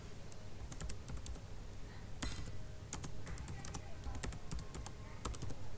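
Rapid keystrokes on a computer keyboard while data is entered into SPSS, an irregular run of close, crisp clicks with brief pauses over a low room hum.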